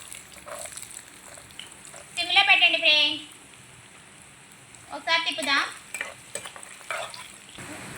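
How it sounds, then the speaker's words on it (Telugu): Carrots hiss in hot oil in a pan, a steady close sizzle running throughout while a voice talks over it in two short stretches. "ఆయిల్ హీట్ అయింది ఫ్రెండ్స్ క్యారెట్ వేద్దాం"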